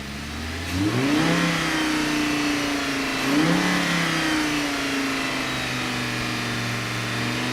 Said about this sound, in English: I just want a section where the car is revving low, and a section where the car is revving high.